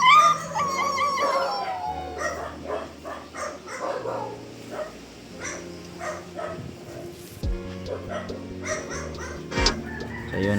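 A female dog makes loud, scandalous barking and howling noises amid roosters crowing and chickens clucking at a dog stud-service breeding session, the cries repeating throughout with fowl calls nearby.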